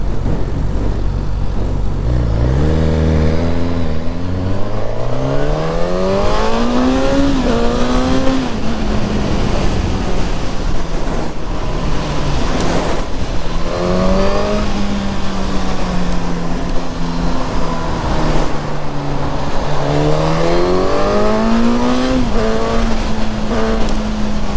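Suzuki GSX-S 1000 motorcycle engine revving loudly and close, pitch climbing and falling through several rising sweeps over a steady rumble for about twenty-five seconds.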